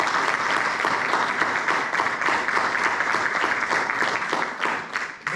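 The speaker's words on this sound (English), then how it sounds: "Please give these candidates a good round of applause" Sustained, even applause from an audience for school board candidates at a forum, a dense clatter of many hands that carries on steadily and tapers only slightly at the close.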